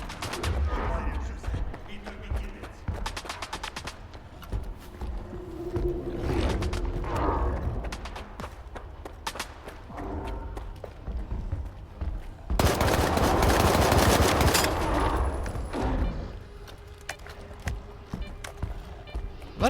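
Rifle gunfire in S.T.A.L.K.E.R. 2: bursts of sharp shots with mechanical clicks and rattles between them, and one heavy, dense barrage midway.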